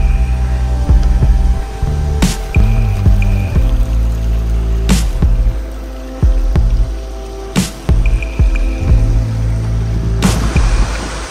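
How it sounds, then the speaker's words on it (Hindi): Mountain spring water trickling out of rock in the Himalayas near the China border, a close and fairly loud gurgle with drips and splashes, broken by a few sharper knocks or bumps, and no one speaking. "ये पानी आ रहा है नीचे से"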